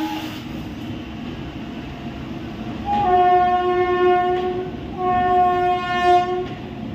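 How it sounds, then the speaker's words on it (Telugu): A goods train rolls past on a line under track replacement and underpass work, a low rumble of wagons joined by two long, loud horn blasts, the second following after a short break. "ఒక పక్క ట్రైన్ వస్తుంది,"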